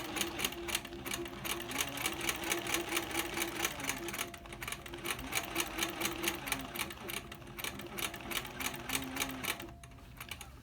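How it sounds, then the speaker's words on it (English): A sewing machine stitches a basket weave pattern with a fast, steady mechanical chatter, dropping to a brief lull near the middle and easing off near the end. "And now I'm going to stitch. And I'm just going to follow a line here."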